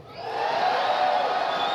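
A group of children shout and cheer together in a loud, sustained burst of excited voices, rising quickly and holding at full volume.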